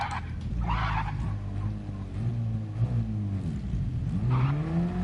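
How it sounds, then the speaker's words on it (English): A car engine in a video game revs by itself with the brake held, rising and falling whines over a low rumble, moderately loud and heard alone. "You can hear it revving."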